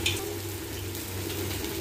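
Fish fries in hot oil with a soft, continuous sizzle and crackle, heard close and fairly quiet with no voices.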